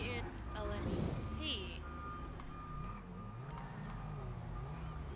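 Repeated reversing beeps sound from a car being parked in GTA, a steady electronic tone running under a soft engine hum and game background noise, with a voice talking over it.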